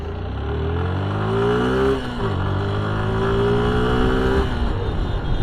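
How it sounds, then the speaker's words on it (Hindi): A Suzuki Gixxer SF 155 motorcycle accelerates hard through the gears, its engine note rising steadily, dipping briefly at a gear change, then climbing again, loud and close throughout. "अब मैं यहाँ से 50 60 तक गया बाइक पे"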